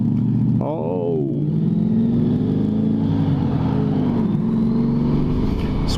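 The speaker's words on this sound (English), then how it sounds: "sweet sounding Mustang, bro." A Ford Mustang engine driving past on a town street, heard from a ride, with a deep rumbling tone that swells and shifts pitch as it revs and goes by, loud and close over steady road noise.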